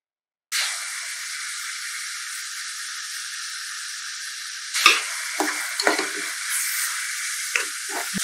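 Tomatoes sauté in a hot pan with a pinch of salt, giving a steady loud sizzle throughout, broken near the end by several scraping stirs of a spoon against the pan.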